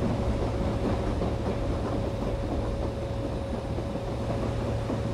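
Karnataka Express train running on rails between Bangalore and New Delhi, a steady, loud rumble and rattle heard from inside the coach with a constant whining tone and no voices.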